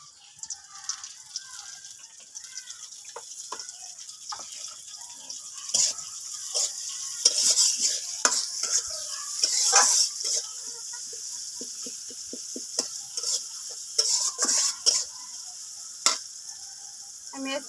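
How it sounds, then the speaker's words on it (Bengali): Onion and garlic frying in oil in a wok give a steady close sizzle with sharp crackles and pops that grow busier midway, plus occasional light clinks. "কড়াইতে পেঁয়াজ রসুন দিয়ে দিচ্ছি তেল"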